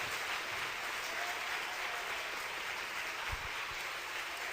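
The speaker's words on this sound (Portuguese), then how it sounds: "Quem acredita nisso, aplauda ao Rei dos Reis e Senhor dos Senhores." Steady applause from a church congregation fills the space, a dense, even wash of clapping heard at a moderate level, with no voices standing out above it.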